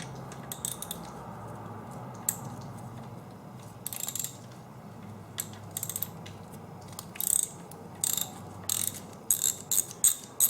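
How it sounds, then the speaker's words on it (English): A socket wrench with an 8 mm socket removes the oil filter cap bolts on a KLR 650 motorcycle, making quiet repeated ratcheting clicks in short bursts over a steady low background hum. "I've switched my 17 mil socket for an 8 mil, and I'm going to remove these two bolts right here"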